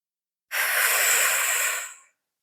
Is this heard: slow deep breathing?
yes